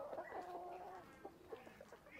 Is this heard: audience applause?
no